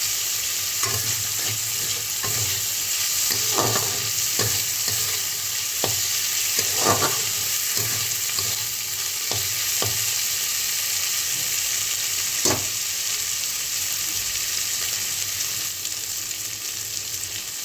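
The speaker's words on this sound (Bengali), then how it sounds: "এটা একটু ভেজে, খুব বেশি ভাজবো না, তাহলে চিংড়ি মাছের গন্ধটা চলে যাবে" Prawns frying in a pan give a continuous close sizzle, broken by scattered scrapes and clicks of a stirring spoon, with no talking.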